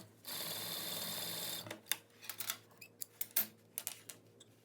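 A sewing machine runs steadily for about a second and a half while stitching the sides of a chest pocket bag, then gives way to scattered clicks and fabric handling sounds close by.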